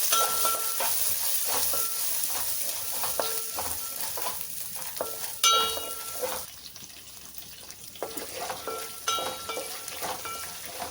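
Steady sizzling and crackling of tempering spices and green chillies frying in hot oil, with occasional stirring clinks, continuous and close throughout.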